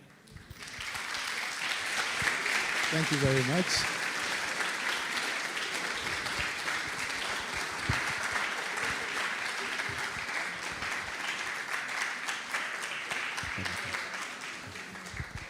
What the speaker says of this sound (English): the clapping alone is an indication